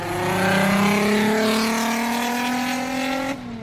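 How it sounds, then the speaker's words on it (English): A Volkswagen 15-degree VR6 V6 engine revs loudly and climbs steadily in pitch with a throaty, growling tone, then drops off abruptly near the end. "This 15-degree V6 engine has a unique sound that many say sounds like a Wookiee."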